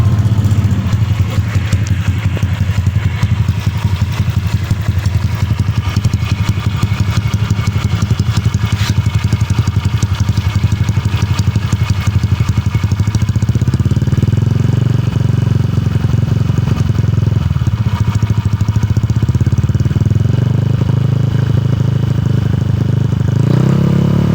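A Honda Vario 58 scooter with a modified exhaust and a swapped air filter runs steadily, giving a loud, close, continuous engine drone with a slight clattering texture and a mild rise in pitch late in the run.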